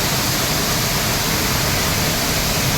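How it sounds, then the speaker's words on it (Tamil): Pullaveli waterfall near Kodaikanal, a loud, steady broadband rush of falling water that fills the whole scene without a break. "இதான் இந்த அருவி தான் புல்லாவெளி அருவி"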